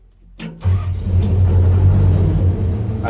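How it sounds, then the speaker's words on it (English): A John Deere 690C excavator engine starting: a brief cranking click, then the diesel catches and settles into a loud, steady low rumbling idle, close by. "so start her up"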